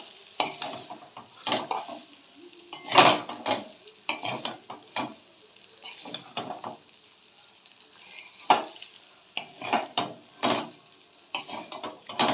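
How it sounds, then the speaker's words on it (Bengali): Maggi noodles are stirred through cooked chicken in a pan, a spatula scraping and clattering against the metal in irregular bursts over a light sizzle, close and crisp, with short pauses between strokes. "আমি ভালো করে এটা ম্যাগিটা এই চিকেনটার মধ্যে দিয়ে মিক্স করে নেব"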